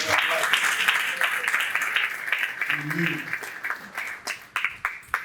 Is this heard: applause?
yes